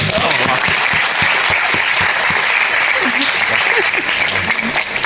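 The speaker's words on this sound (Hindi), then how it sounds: "ताली बजे तो ऐसे बजे कि हम कलाकारों को जोश आ जाए" Steady, dense applause from an audience at a Hindi comedy poetry show fills the clip, loud and continuous, with a few voices mixed in beneath the clapping.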